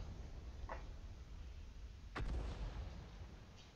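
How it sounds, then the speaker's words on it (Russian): Artillery shells landing near a tank in World of Tanks, two sharp distant blasts about a second and a half apart, the second louder and followed by a low rumble, no voices. "Арта скидывается по нашему танку."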